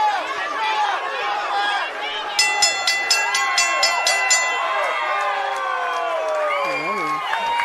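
A boxing crowd cheers and shouts as a fight closes toward the final bell, a dense roar of many voices with rhythmic bursts of clapping and a commentator talking over it.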